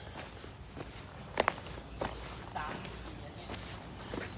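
Footsteps on an outdoor walk at dusk near a home garden, soft and irregular with a couple of sharper steps, faint against a steady hiss of insects and background noise.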